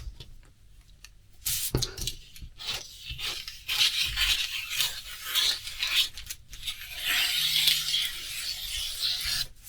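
Scissors slice a paper sleeve pattern for a raglan sleeve in half, giving a steady dry rasping and snipping that runs near and fairly loud throughout, with no talking.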